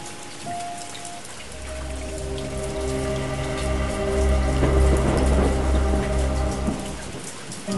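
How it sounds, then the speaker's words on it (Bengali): Steady rain pours down onto surfaces, a loud, continuous patter with a low rumble swelling beneath it, heard alone with no voices. "এই রে, আবার বৃষ্টি শুরু হলো।"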